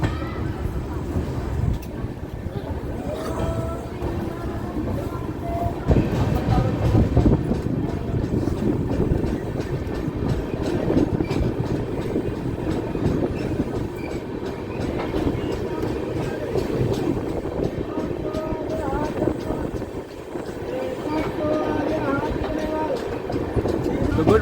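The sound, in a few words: Danapur-Pune SF Express train running after departing Maihar station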